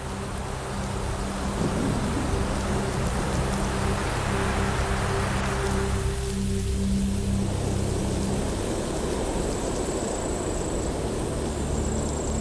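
Steady heavy rain hisses through a savanna thunderstorm where a lioness shelters, while deep thunder rolls and rumbles loudly before easing into a continuous downpour.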